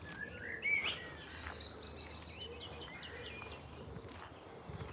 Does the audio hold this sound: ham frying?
no